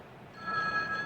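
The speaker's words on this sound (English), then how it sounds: "Oh, my phone." A telephone starts ringing in an indoor scene, a faint electronic ring that rises abruptly over low room noise and lasts only a moment.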